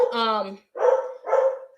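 A household dog barks at close range: a drawn-out whining yelp followed by two loud, sharp barks in quick succession, with a human voice overlapping the start.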